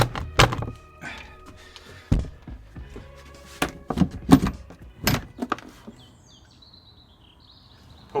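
A swollen wooden door on a narrowboat is forced open in cold early-winter weather, giving a series of loud, sharp thunks and knocks with scraping in between, followed by quieter creaks while birds chirp faintly outside.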